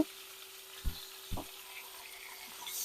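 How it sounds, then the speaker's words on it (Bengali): Lightly fried fish stirred in a pan before spices go in for a bitter gourd fish curry, with two soft low thumps of the spatula over a faint frying hiss and a steady hum. "একটুখানি নাড়াচাড়া করে নিয়ে মশলা দিয়ে দেব"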